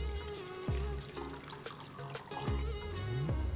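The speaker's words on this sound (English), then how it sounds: "Just add a little water." Water poured into a popsicle mixture of honey and lemon zest makes close trickling and splashing with a few bright gulping plops, steady throughout and with no voices.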